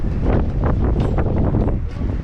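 Strong cold wind gusting on a Great Lakes shoreline, loud buffeting roar across the microphone in uneven surges throughout.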